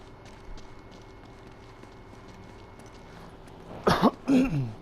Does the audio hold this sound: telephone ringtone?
no